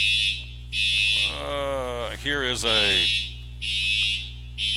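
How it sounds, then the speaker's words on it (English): A fire alarm under test at Bristol Motor Speedway blares in repeated long electronic bursts separated by short gaps, while someone talks nearby during the middle of the sequence. "it sounds like they're testing the security system, the fire alarm"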